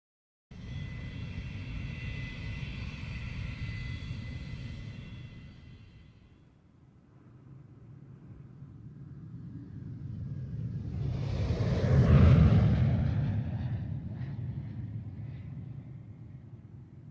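A strange-looking plane's engine drones in the video game Maken X, holding steady, dipping briefly, then swelling to a loud, close peak before easing off again.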